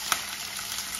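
Curry leaves drop into hot oil in a pan with garlic and green chilies for a dried fish brinjal curry, setting off a bright, steady sizzle with a sharp pop at the start.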